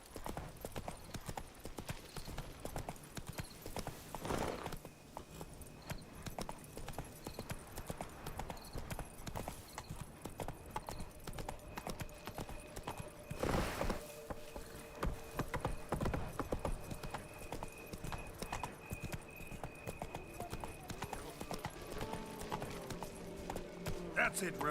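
Roach the horse from The Witcher 3 gallops with steady clip-clop hoofbeats throughout, a brief whinny now and then, and a voice talking over the game sound.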